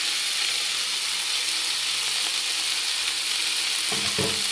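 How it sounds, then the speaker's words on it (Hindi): Fried onion and fried okra sizzle in a hot iron tawa, a steady bright frying hiss throughout with a brief stirring scrape near the end. "फ्राई किया हुआ प्याज डाल दें और साथ में आप फ्राई की हुई भिंडी भी"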